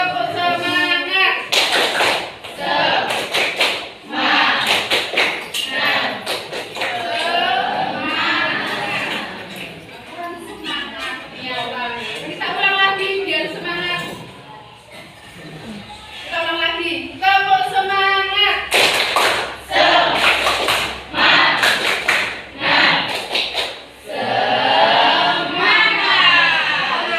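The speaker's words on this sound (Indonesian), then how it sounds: "Yuk kita mulai, tepuk semangat." A group performs a rhythmic spirit clap at a training session, bursts of sharp synchronized hand claps alternating with loud voices chanting and talking along, close and energetic throughout.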